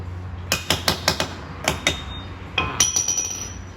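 Sharp metal-on-metal hammer strikes on a Honda Wave motorcycle clutch part, roughly a dozen close, ringing blows in uneven bursts with short pauses, alone over a low hum.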